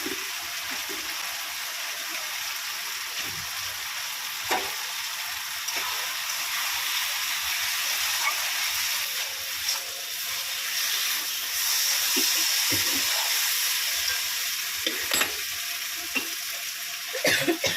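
Spice paste with a little sugar frying for chicken keema ghugni, a continuous hissing sizzle broken by soft scraping stirs, close and steady throughout.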